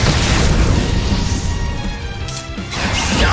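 A fire spell burning in the video game Octopath Traveler II: loud, crashing blasts with a roaring, whooshing texture that keeps going, dips briefly in the middle and swells again.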